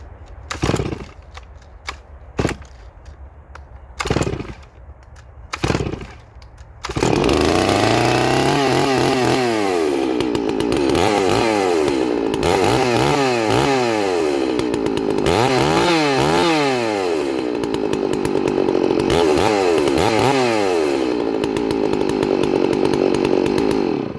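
A Stihl MS660 chainsaw blips through a few short revs, then runs loud and continuous up close, its pitch rising and falling as the throttle is worked repeatedly.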